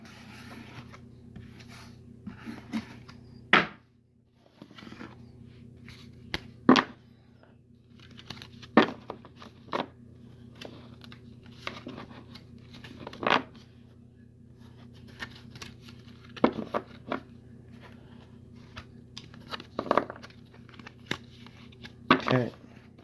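Tarot cards are shuffled by hand in a quiet room, with intermittent rubbing and riffling rasps and sharp card snaps spread irregularly over about twenty seconds, fairly close and soft.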